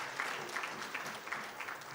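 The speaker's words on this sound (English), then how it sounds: "Can we clap for our recent speaker?" A conference audience applauds a recent speaker at an East Africa capital markets event, a steady, fairly faint wash of clapping from many hands in a large room, with no talking over it.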